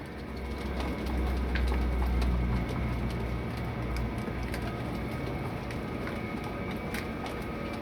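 Pigeons in a loft give soft, low cooing with faint fluttering and shuffling over a steady background hum, fairly close.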